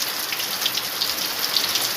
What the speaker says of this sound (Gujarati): દેખો વરસાદ કેવો મસ્ત વરેલો છે, ઝીણો ઝીણો મસ્ત મજાનો